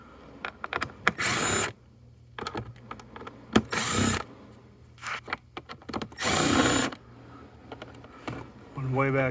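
A power driver backs out T25 screws from the air filter cover on a 2015 Mk7 Golf TDI. Three short, loud whirring bursts stand close up, separated by quieter handling noise and faint talk.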